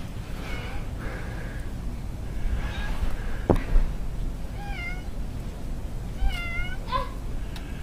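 A cat meows repeatedly outdoors in the snow during a 2010 blizzard, several clear rising and falling cries spaced a second or so apart, close and fairly loud over faint wind and background noise.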